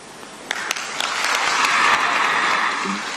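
Delegates at a SADC ministers' meeting in a conference hall applaud a minister: a few scattered claps swell into broad, steady clapping from a large audience, then ease slightly toward the end.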